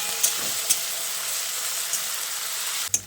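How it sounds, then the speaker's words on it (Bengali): Onions frying in hot oil for a Bengali chicken and potato curry, a steady close sizzling hiss with a few soft taps, ending in a brief knock. "তারপর পেঁয়াজটাকে কিছুক্ষণ ভেজে নেব, আর পেঁয়াজটাকে একটু বাদামি করে ভেজে নেব।"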